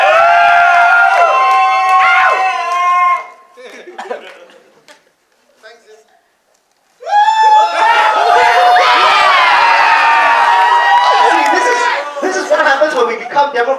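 A crowd at a Ghost in the Shell 2017 movie premiere fan event cheers and laughs loudly in two bursts, separated by a quieter stretch of scattered voices and chuckles.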